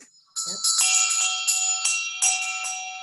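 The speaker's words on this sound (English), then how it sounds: "Clearing bells are another." Bright metallic clearing bells ring repeatedly with long shimmering sustained tones, struck several times in a loose rhythm, close and fairly loud.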